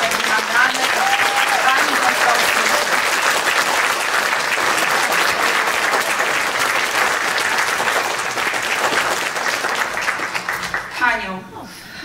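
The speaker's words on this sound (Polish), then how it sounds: "A Państwa poproszę o ogromne brawo" Sustained applause from a theater audience at a stage event, loud and steady for about eleven seconds before tapering off, with a voice beginning to speak at the very end.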